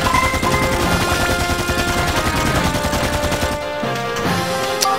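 Rapid bursts of gunfire in the video game Dark Chronicle, dense and continuous over a game soundtrack, with the shooting dropping away near the end.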